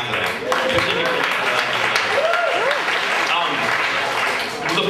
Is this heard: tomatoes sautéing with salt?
no